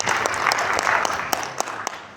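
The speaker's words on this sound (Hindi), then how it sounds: "आप लोगों की शानदार तालियां" Enthusiastic applause from an indoor crowd at a product training event, a dense steady patter of many hands clapping with sharper individual claps standing out, sustained throughout.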